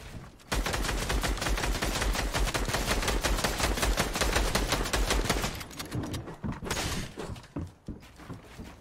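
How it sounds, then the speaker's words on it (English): A drum gun firing in the Fortnite video game: a sustained rapid burst of automatic gunfire lasting several seconds, then fading into scattered impacts. "he did not notice that I had the drum gun"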